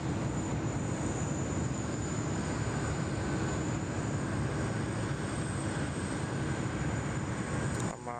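A Korean Air Boeing 747 at Sydney Airport, a constant loud broadband jet roar with a faint high whine, steady and unbroken for several seconds before dropping off abruptly at the end.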